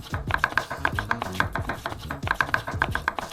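A knife chops soft dough on a cutting board, rapid regular thuds in quick bursts with short pauses, close and fairly loud, with no talk.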